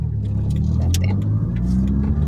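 A car's engine drones and rumbles steadily from inside the cabin as it pulls away through the gears, with a few knocks and clunks from the road and a voice talking over it.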